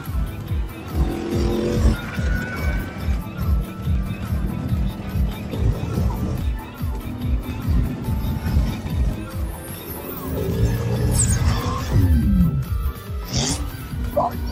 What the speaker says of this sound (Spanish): Después de retirarse, enciende el tanque de nitrógeno para acelerar.